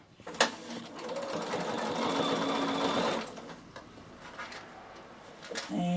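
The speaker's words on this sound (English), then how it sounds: "I'm going to sew from the bottom up the same as what I've just done" A sewing machine stitches a backpack seam in one close, rapid run of about three seconds, with a few clicks and handling noises before and after.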